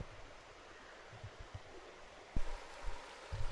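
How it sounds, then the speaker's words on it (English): A waterfall rushes in a steady broadband wash close by, with a few low thumps and handling bumps over the continuous roar. "I made it to right in front of the waterfall. But makes noise. Water's falling."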